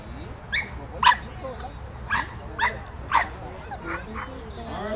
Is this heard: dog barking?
yes